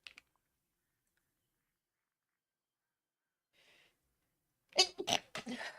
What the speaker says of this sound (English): I had a sneeze.